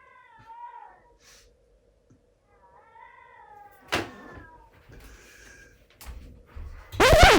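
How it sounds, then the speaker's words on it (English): A cat meows several times with drawn-out, wavering cries, fairly near, separated by quiet gaps with a few soft knocks and bumps. "my cat is meowing in the background, she wants to get in the room"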